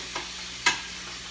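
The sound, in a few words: stirring mushrooms in a pan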